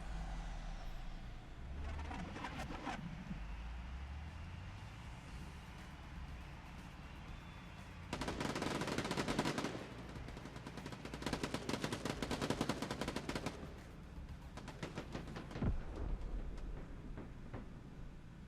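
Gunfire in the arcade tactical shooter Quantum League, with bursts of rapid automatic shots in several loud, dense volleys separated by quieter game ambience, no talking.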